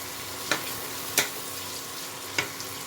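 Potatoes frying with onion paste and ginger-garlic paste for an omelette curry, a steady faint sizzle with three sharp spatula scrapes.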